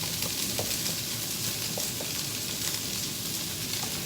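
Peppers, onions, celery and carrots sautéing in a sauté pan, a loud, steady hissing sizzle that fills the whole span with faint soft stirring ticks.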